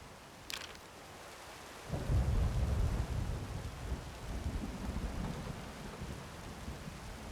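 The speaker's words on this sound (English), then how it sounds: "This storm has been going on for weeks." A thunderstorm in the horror video game Layers of Fear: a low rumble of thunder swells and rolls on over steady rain and wind, with a faint sharp crack near the start.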